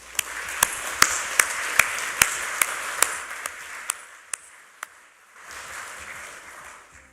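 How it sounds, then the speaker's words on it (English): An audience at a university doctoral thesis competition final applauds the finalists, a steady wash of clapping punctuated by sharp regular pings that fades out partway through. "give another round of applause to the finalists"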